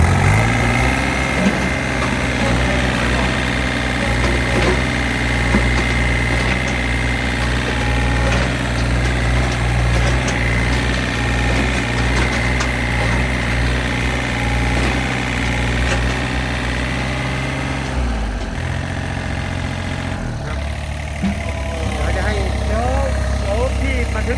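A Komatsu PC30 MRX mini excavator engine idles with a steady, continuous low rumble and vibration close by, dipping briefly near the end, while people talk over it throughout.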